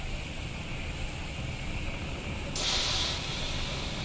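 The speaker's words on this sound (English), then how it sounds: "Now the steam is coming out here instead of upstairs." Steam hissing from a pipe in the video game Black Sails, a steady breathy hiss that surges louder partway through and then holds, with no voices.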